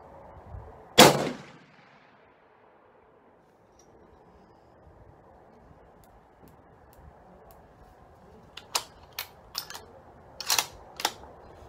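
A Ruger American Go Wild rifle in 300 Win Mag fires a single loud, sharp shot outdoors, followed by a quiet stretch and then a handful of softer clicks and knocks, likely from working the bolt.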